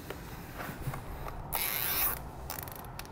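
A wrench tightening a fuse holder connection during a brake system install on a 2015 Jeep Wrangler, giving several short ratcheting clicks and one longer metallic grinding burst, up close.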